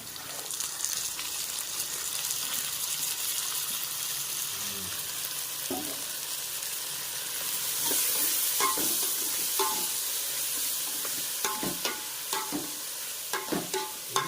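Green chillies and tomatoes sautéing in a pan with salt, a steady soft sizzle running throughout, punctuated by occasional clinks and scrapes of stirring near the end.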